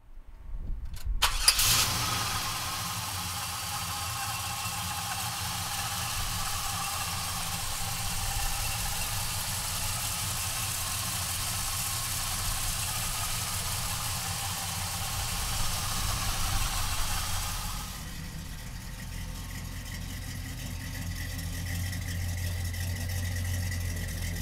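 A big V8 engine in a 1971 Chevrolet Monte Carlo cranks and roars to life, then settles into a loud, steady rumbling idle that drops slightly in pitch near the end.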